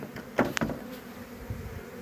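Honeybees buzz around an opened hive frame during spring feeding, a low steady hum with a few brief louder passes of individual bees close by, moderately quiet overall.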